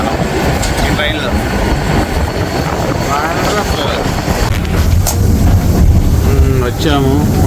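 An Isle of Man steam train running on its line, a loud continuous rumble of wheels and carriages with rattling and squealing tones, close by, while people talk over it.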